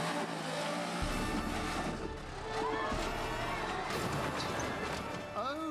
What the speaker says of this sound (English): This extreme off-roader is using torque in the wheels to propel him up a near vertical cliff.